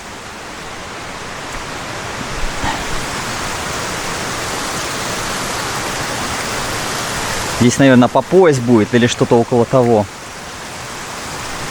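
Rain falls steadily onto a shallow natural swimming pool in Camiguin, Philippines, making a continuous broadband hiss. Someone speaks briefly over it near the end.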